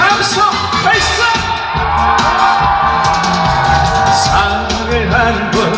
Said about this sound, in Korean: 울산 여러분들 다 같이 5초간 함성 발사!